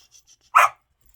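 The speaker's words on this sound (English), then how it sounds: "Oh, that's my puppy." A puppy gives a single sharp, bright bark close by, standing alone after a few faint chirps in an otherwise quiet room.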